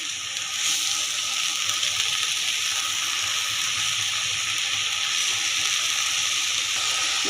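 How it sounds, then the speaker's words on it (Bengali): Helencha greens fry with salt in a pan, a steady, close sizzle and hiss filling the whole stretch at an even level, with no talk over it. "লবণ দিয়ে আমি শাক ভেজে নেব"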